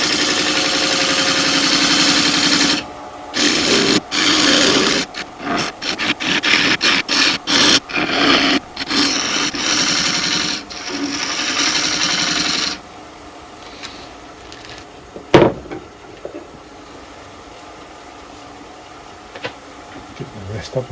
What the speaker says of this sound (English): use a spindle gouge to get that where we want it